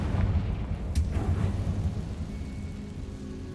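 A Confringo fire spell explodes in a Harry Potter wizarding video game, a deep rumbling blast with a low boom that rolls on and fades slowly, with no talk over it.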